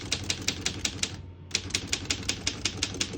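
Keys of a 1923 Underwood No. 5 desktop typewriter strike in a steady, rapid rhythm, each a sharp clack, with a brief pause midway before the typing resumes.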